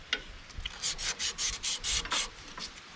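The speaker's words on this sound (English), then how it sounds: "You can use sandpaper if you want." Sandpaper of about 120 to 220 grit rubbing surface rust and rubber buildup off a snowblower friction drive plate, a series of close, even rasping strokes in a steady back-and-forth rhythm.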